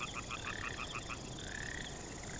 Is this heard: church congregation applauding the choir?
no